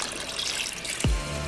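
Water poured into a pot of birria meat while cooking, a steady close trickle for about a second that ends in a low thump as the pot is set down or the stream stops.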